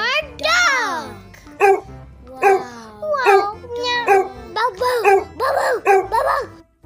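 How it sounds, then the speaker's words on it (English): A dog gives a quick series of yips and barks, loud and close, alternating with short whimpering cries, with a voice mixed in. "D for dog. D for dog."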